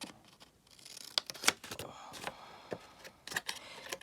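Scissors snip triangles off the overlapping folds of a folded paper envelope, giving a series of sharp, close cuts with brief paper rustles between them, fairly quiet with irregular spacing.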